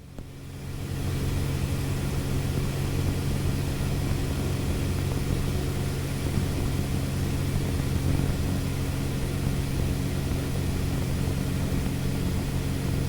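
Small airplane in flight, a steady loud droning engine and propeller roar heard from inside the cabin, unbroken throughout with no talk.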